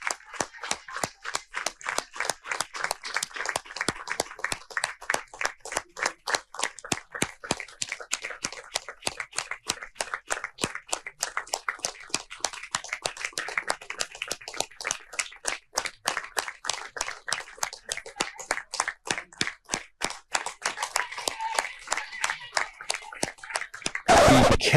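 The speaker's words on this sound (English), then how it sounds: "we're going to listen in to a standing ovation." A standing ovation in a large room, with dense, rapid clapping that keeps a fast, even beat for a long stretch and grows louder near the end.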